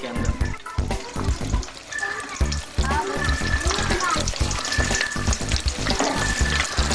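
Plant twigs fry in hot oil for a home hair remedy, giving a loud, crackling sizzle with rhythmic bubbling pulses throughout.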